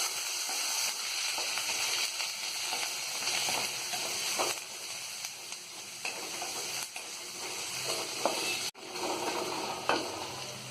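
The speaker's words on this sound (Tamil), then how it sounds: "வெங்காயம் கொஞ்சம் நேரம் நல்லா வதங்கட்டும்" Onions sautéing with curry leaves and green chili in a pan for coconut rice, a steady close sizzle and frying hiss running throughout with occasional stirring scrapes, no voices.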